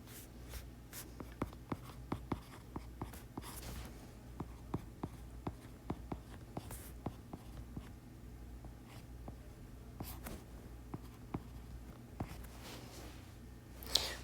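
Handwriting on paper during a maths review, with quiet, steady pen or pencil scratches and small ticking strokes running throughout, close and faint, with no talking.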